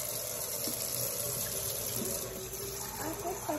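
Tap water runs and splashes softly as shampoo is rinsed out of a child's hair, a quiet steady gush without pauses.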